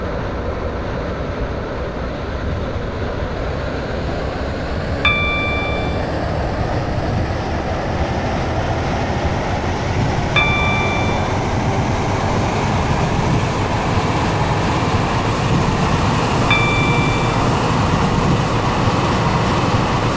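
A Class 730 Waterline train runs in the Roblox game SCR, giving a steady, loud rumble of motion throughout, with three short, bright chime-like tones at regular intervals and no talking.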